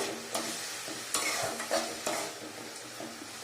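Vegetables fry in a pan for palak dal, making a continuous soft sizzle broken by a few sharp stirring clatters, fairly quiet and close.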